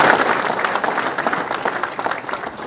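Applause from an audience of golf professionals at a spring association meeting, honoring sponsors: dense, steady clapping from many hands filling the room, close and moderately loud throughout.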